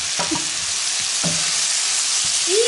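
Chopped onion sizzles in hot butter in a pan, a constant frying hiss with a few brief scraping stirs of a utensil scattered through it.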